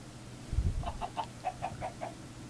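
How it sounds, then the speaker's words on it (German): Chickens in the Minecraft video game clucking in a short series of rhythmic, evenly spaced clucks over a low background hum, moderately close. "Außer die Hühner, die hört man."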